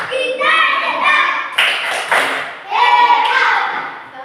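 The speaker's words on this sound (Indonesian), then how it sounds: "Baik, tepuk hebat." Children in a classroom perform the rhythmic 'tepuk hebat' clapping chant, quick hand claps in bursts mixed with loud group chanting voices, close and lively.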